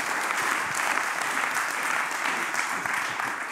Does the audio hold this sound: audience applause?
yes